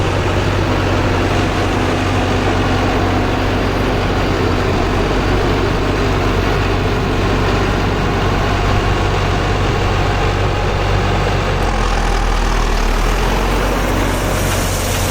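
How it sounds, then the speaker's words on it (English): Tractor engine idling and running steadily before hay raking in a field, loud and close with a constant low rumble that never changes across the whole stretch. "jump on the tractor and start raking"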